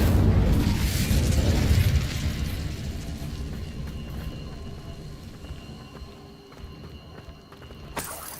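A fire spell is cast in the video game Hogwarts Legacy: a loud roaring burst with a boom opens the moment, then fades into a crackling, sizzling tail, and a sharp pop sounds near the end.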